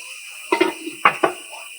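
A lid is set onto a pan of Bengali-style soybean dopeyaja cooking with a little water. Three sharp, close metallic clanks sound in quick succession against a steady background hum.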